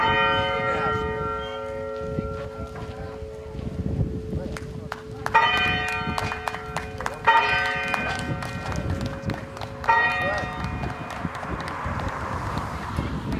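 A church bell, rung by hand with a pulled rope at a bell dedication in Brookfield, New Hampshire, clangs repeatedly in uneven strokes with long ringing overtones, loud and near, under people talking and shuffling footsteps.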